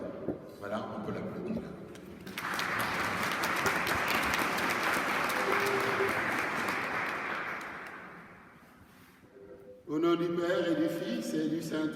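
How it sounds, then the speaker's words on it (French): A church congregation at a Sunday Advent Mass applauds for about six seconds, a full, even clapping that swells and then fades out, with spoken voices before and after it. "Voilà, on peut l'applaudir."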